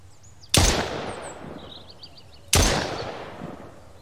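Two loud rifle gunshots in Mist Survival fired at an animal, spaced about two seconds apart, each a sharp crack with a decaying echo, with faint bird chirps in the background.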